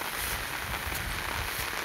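Steady rain falling over a rural village and fields, a dense continuous hiss without pauses, fairly close and moderate in level, with no voices.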